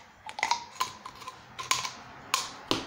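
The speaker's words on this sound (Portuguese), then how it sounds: "Agora com a tesoura eu dou um acabamento." Scissors snip and trim the cut edge of a plastic bottle, a series of sharp crisp clicks and crackles spaced irregularly, close and fairly quiet, with no voices.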